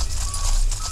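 Horse hooves in the video game Six Guns make a brief, loud clip-clop over a heavy low rumble, lasting about a second.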